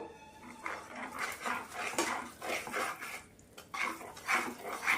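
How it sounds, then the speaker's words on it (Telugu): Sesame, ghee and chikki mixture stirred in a pan, a series of soft rhythmic scraping and clinking strokes of a spoon against metal, moderately close, no talk. "ఇదంతా ఒకసారి బాగా కలుపుదాం"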